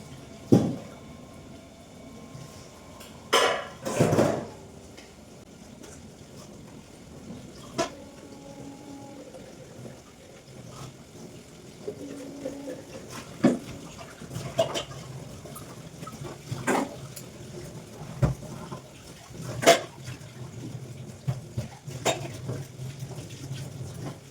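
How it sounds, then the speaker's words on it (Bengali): Dishes and utensils being washed under running water in a home kitchen: intermittent splashing, gushes from the tap and occasional clatter of pots and plates, mostly moderate and close, without talk. "ওটা হতে হতে বাসনগুলো সব ধুয়ে দিচ্ছি।"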